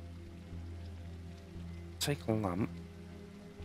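Steady patter of rain in the zombie survival game SurrounDead, a soft continuous hiss under a low hum, with a brief spoken phrase over it midway.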